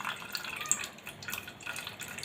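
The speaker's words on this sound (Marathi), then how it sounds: "दही आहे ना त्यातलं पाणी असं गाळून गेलं पाहिजे तुम्ही बघू शकता पाणी कसं गळतं आहे" Soft, irregular drips and trickles of whey straining from yogurt, quiet and close, with faint liquid patters scattered over a low background hiss.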